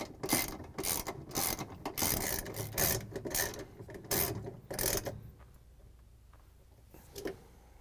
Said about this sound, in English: Then we can use the 3/8 inch socket with the ratchet and the extension to put in the bolts.